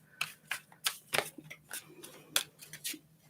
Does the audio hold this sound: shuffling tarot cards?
yes